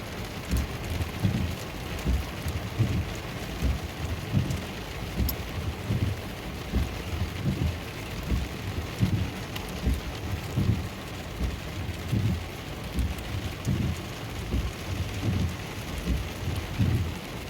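Heavy rain pours steadily during a thunderstorm out sea fishing on the Devon coast, with deep rolling thunder pulsing through a constant wash of rainfall and a little wind, no voices.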